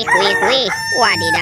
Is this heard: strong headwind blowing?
no